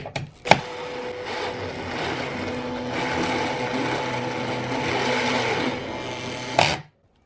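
A bolt is tightened down through ratcheting toe clips on a mountainboard, giving a steady grinding, ratcheting whir for several seconds between sharp clicks at the start and finish, close up, with no voices.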